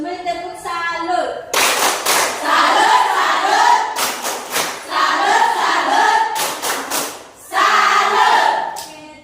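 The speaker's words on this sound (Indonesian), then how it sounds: "Semuanya tepuk salut." A school class performs a rhythmic clap salute, bursts of sharp group claps alternating with loud shouted chanting from many children, close and lively.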